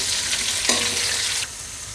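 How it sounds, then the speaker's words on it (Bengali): Onions tipped into garlic paste already frying in a pan for a Bengali wedding-style beef dopiaza: a steady loud sizzle, a brief burst of crackling as the onions land, then the hiss settles slightly quieter. "রসুনটা লাল হয়ে গেছে। এতে আমি পেঁয়াজ দিয়ে দিচ্ছি।"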